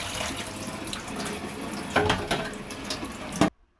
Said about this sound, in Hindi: मटन को वॉश कर लेंगे